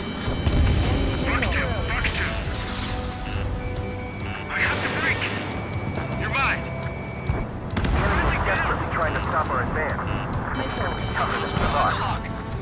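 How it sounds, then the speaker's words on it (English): Missile launches and explosions in Ace Combat 7, repeated booms and crashes mixed with whooshing engine noise and warning tones, loud and dense, with radio voices speaking over them. "Missile inbound. Missile inbound. Missile. Fox 2. Fox 2."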